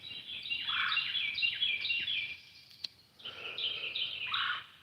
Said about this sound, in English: These birds are all mad at me because I'm right by their bird feeder